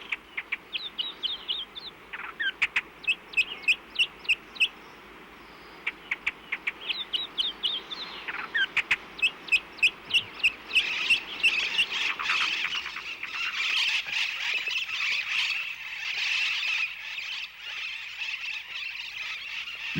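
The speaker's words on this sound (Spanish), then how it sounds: "es la tenca o calandria quien tiene las mejores facultades cantoras" A Chilean mockingbird, the tenca or calandria, sings a long, varied song of rapid repeated chirps and trills, loud and close, shifting into denser warbling phrases later, heard alone without talk.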